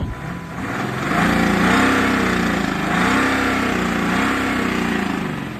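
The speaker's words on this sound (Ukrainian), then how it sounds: "Чутно звук движка, да?" A used car engine imported from Germany runs steadily close by, its pitch rising and falling slightly as it revs, with a knock at higher revs and no talking over it.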